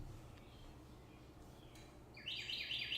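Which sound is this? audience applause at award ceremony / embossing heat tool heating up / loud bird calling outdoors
loud bird calling outdoors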